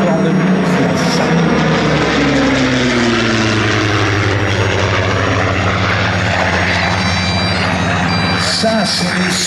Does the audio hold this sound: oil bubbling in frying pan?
no